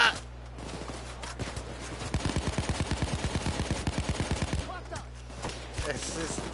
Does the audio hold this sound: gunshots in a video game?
yes